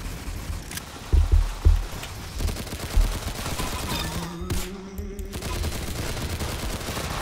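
A minigun in the Roblox game Arsenal fires in rapid bursts of dense automatic gunfire, with heavier shots early on and steady rattling throughout, loud and close.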